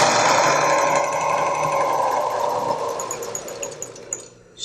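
A sewing machine stitches along a common zipper in a fast, steady mechanical whir, close and fairly loud, then slows and stops near the end.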